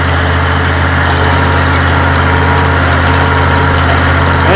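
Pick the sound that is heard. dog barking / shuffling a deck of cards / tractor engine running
tractor engine running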